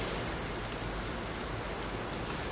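A sudden heavy downpour beats on a tin sheet roof, a thick, steady wash of rain noise without any pauses or voices.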